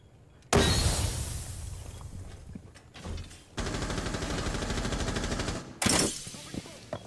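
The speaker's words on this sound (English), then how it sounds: "A minigun." A minigun spinning up and firing in a shooter game, a long, loud, steady buzzing stream of rapid shots between sharp bursts, with players talking over it.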